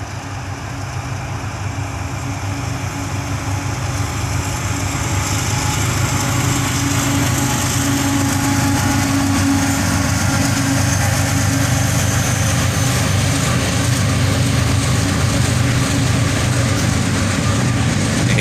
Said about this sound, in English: An ET-44AH and an ES-40DC lead this northbound train across the bridge.